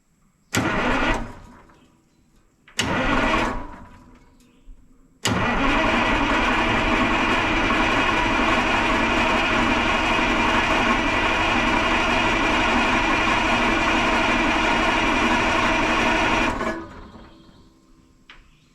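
A 1980 Peterbilt 359 heavy-haul truck with a Cat 3408 diesel, front end rattling from a worn fan clutch, cranks twice in short bursts, then fires and runs loudly and evenly for about eleven seconds before fading off.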